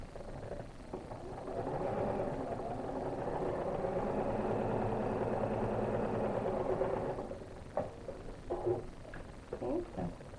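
A sewing machine stitches quilt block pieces made from half-square triangles, a steady close mechanical whir running for several seconds, then stopping and giving way to scattered handling sounds.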